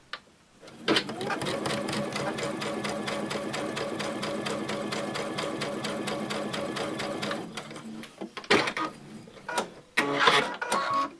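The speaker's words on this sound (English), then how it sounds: "now I am sewing the one little pink to the two yellow" A sewing machine stitches small pink and yellow quilt pieces together in a long, steady, rapid mechanical run of about seven seconds, close up, followed by short bursts and handling clatter as the fabric is adjusted.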